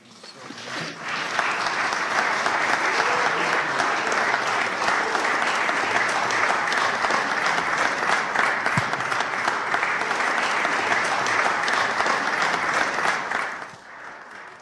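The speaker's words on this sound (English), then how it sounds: "Give her a wonderful hand clap." An audience at an interfaith conference applauds loudly and continuously for about twelve seconds, a dense, sustained clapping that fades out at the end.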